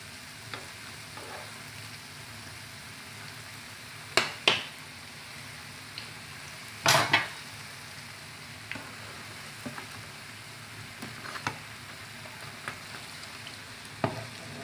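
Zalabia batter fries gently in hot oil with a soft, steady crackle, broken by a few sharper clinks and spatters, heard close and alone without speech.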